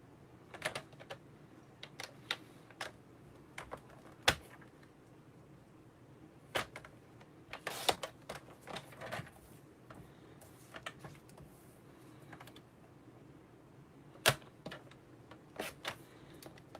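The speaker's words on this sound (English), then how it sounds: "I'm going to get my trimmer out so I can trim this up a little bit more even" A paper trimmer cutting craft paper, scattered close clicks and sliding blade strokes with a few louder snaps over a low, quiet room hum.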